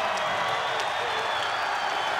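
Arena basketball crowd at a Cincinnati versus ECU college game roars and applauds after a play, a loud, sustained wall of cheering and clapping with a commentator speaking over it.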